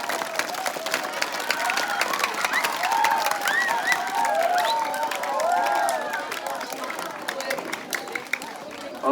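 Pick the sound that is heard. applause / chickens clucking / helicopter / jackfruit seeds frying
applause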